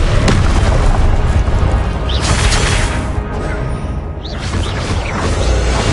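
Confringo fire spell explosions in Hogwarts Legacy, heard as loud, dense booming blasts with whooshing bursts that repeat over a constant roar of combat effects.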